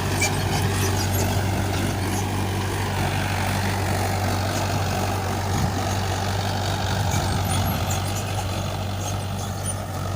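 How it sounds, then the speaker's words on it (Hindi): A tractor ploughing a farm field in June runs with a steady low engine drone and rumble, continuous and fairly close, with no voices over it. "ये चलत ट्रैक्टर खेत में जोताई चलत है।"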